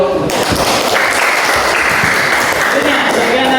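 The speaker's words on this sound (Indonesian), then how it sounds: "tepuk tangan dulu" Audience applause during a school guidance-counselling session, a steady wash of clapping from the group that carries loudly through the whole stretch, with some voices mixed in underneath.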